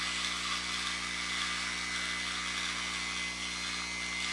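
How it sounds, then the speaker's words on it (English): A rotary tool fitted with a diamond burr, set fairly low, whines steadily as it carves fine lines into sculpted hair, a continuous close high-pitched grinding drone with no pauses. "I'm using a diamond burr."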